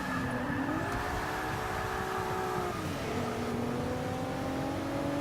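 A race car in Forza Motorsport 6 revs and shifts on a slippery Sebring track, its engine whine climbing, dipping at a gear change and climbing again, loud and continuous with no talk.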